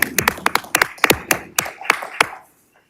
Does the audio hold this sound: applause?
yes